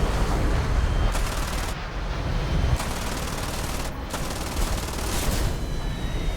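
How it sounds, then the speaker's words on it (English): Rapid bursts of automatic cannon fire from an F4D-1 Skyray in War Thunder, steady and continuous over a constant engine-like roar, with no talking. "Okay, so cannons finished the job"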